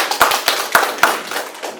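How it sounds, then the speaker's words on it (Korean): A handful of scattered, sharp handclaps from a small audience at a Gyeonggi agricultural policy forum, uneven and thinning out as they fade. "김상영 팀장님하고 이수미 박사님께 다시 한번 박수 한번 드리고요"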